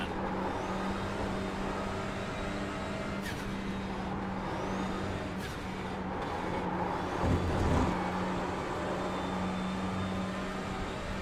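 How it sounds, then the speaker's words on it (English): A race car's turbocharged engine roars steadily and loud in iRacing during a four-hour race at Thruxton, with a few brief pops from exhaust backfire and turbo along the way. "I like the sound from the turbo and exhaust backfire."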